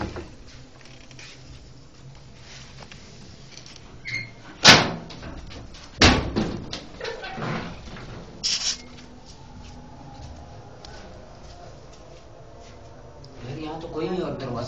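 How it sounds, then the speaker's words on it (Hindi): Knocking and banging on an inner door of a house, heard as a few separate sharp knocks and thuds spread across the stretch, moderately loud against a quiet room background. "नहीं अंदर का दरवाजा खटखटा रहा है।"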